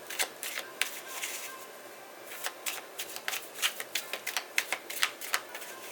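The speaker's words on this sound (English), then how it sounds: "Do 3 shuffles." Tarot cards are shuffled in quick riffling bursts, soft and close, with a rapid crisp patter that rises toward the end.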